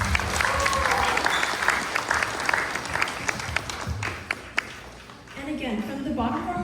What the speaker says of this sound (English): Can we give Chung Simon or Joe one more round of applause?